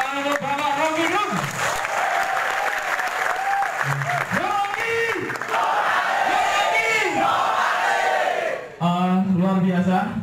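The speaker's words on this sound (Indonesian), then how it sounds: "Baik, tepuk tangan untuk Bapak Rocky Gerung." Loud, sustained applause and cheering from a packed university hall audience for Rocky Gerung in Ponorogo, with a brief dip near the end before the clapping and shouts swell again.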